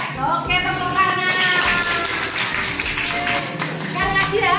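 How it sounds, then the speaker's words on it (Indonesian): Children clap their hands together in a school classroom during a social-emotional learning activity, a dense burst of claps mixed with voices talking over it throughout. "Oke, tepuk tangan."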